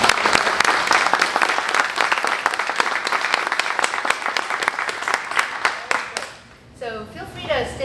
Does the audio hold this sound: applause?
yes